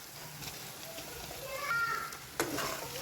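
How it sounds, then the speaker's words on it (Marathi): Washed chicken stirred into frying masala with coriander powder, a low steady sizzle under gentle stirring, a sharp utensil knock near the end, close and with no talking. "स्वच्छ चिकन धुवून घेतलेलं आहे, चिकन टाकायचे मसाल्यामध्ये"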